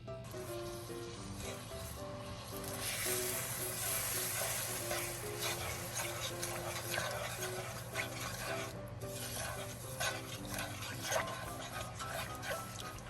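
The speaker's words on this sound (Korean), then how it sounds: "설탕을 넣고 저어주세요." Sugar stirred into water in a pot while making Korean puffed rice treats, a soft continuous rubbing and grainy scraping with a faint steady hum beneath, quiet and close, with no voices.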